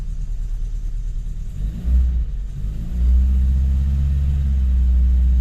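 An MG 1100 car engine at fast idle after a long wet winter, a steady close low rumble that surges briefly and then settles into a slightly raised, even drone.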